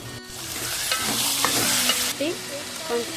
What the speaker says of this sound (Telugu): వంకాయలు కూడా మంచిగా ఫ్రై అయిన తర్వాత టమాటా ముక్కలను వేసుకోవాలి